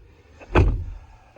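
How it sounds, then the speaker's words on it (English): A 2021 Toyota 4Runner TRD Pro door shuts once with a solid, close thunk, followed by a brief rattle as it settles and a faint knock near the end. "Nice door shut sound."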